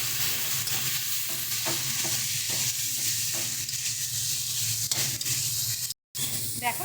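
Softened tomatoes with a little added water sizzle and bubble in a pan for a river fish curry, with a steady frying hiss and repeated scraping stirs close by.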